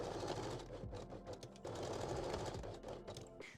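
A sewing machine runs a straight stitch on swimwear fabric, a fast steady mechanical whir close up that pauses briefly once and then carries on, with no voices.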